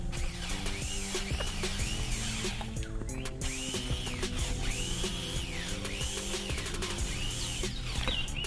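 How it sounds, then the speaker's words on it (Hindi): A JCB 26mm hammer drill fitted with a bit hammers continuously, a loud rapid rattling pound with a repeating rising whine from the motor, steady and close for the whole stretch, no voices. "यहाँ पे थोड़ा हैमरिंग चेक कर लेते हैं, हैमरिंग कैसा हो रहा है"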